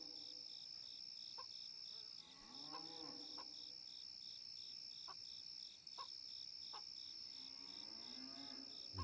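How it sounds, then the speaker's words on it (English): Cows moo several times at night over a steady chorus of crickets and insects, the lowing calls rising and falling at a moderate distance. "These cows are going nuts over here"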